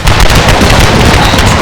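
Light horse artillery in a Total War battle delivers a loud, dense rumble of cannon fire and explosions that stays sustained and heavy for the whole brief stretch, with no clear gaps.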